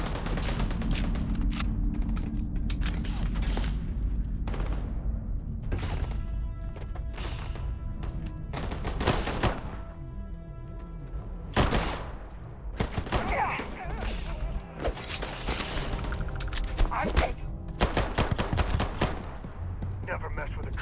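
Repeated gunshots from the player's weapon in the Starfield video game ring out in close, sharp bursts and volleys over about twenty seconds, layered with steady game background noise and occasional voices.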